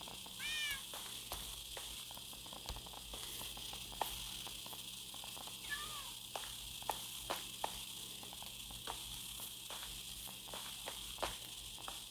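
Cats in Minecraft, with two short, high meows rising above a constant hissing background and soft, scattered clicks and taps.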